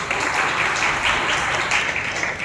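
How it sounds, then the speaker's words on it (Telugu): A church congregation at a Sunday service in Nellore claps loudly and steadily, a dense, even wash of many hands with no pauses. "బిగ్గరగా చప్పట్లు కొట్టండి బాగా"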